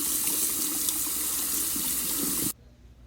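Water sprays from a tap to rinse a Frigidaire FPID2497RF dishwasher filter, a steady close splashing rush that stops abruptly shortly before the end.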